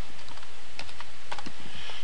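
Quick bursts of keystrokes on a computer keyboard while a folder name is entered in a Citrix web interface, close-miked clicks over a steady background hiss.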